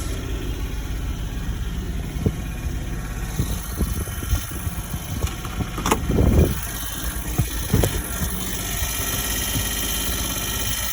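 A vehicle engine idles steadily in four-wheel drive reverse, with a worn rear end that will not engage. A continuous mid-pitched drone is broken by scattered clunks and rattles, and one louder cluster of knocks comes partway through.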